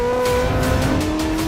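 A 1600-horsepower Koenigsegg Jesko Attack hypercar holds a loud, steady engine drone close up, with a rhythmic pulsing texture that may be tire noise, over a short stretch.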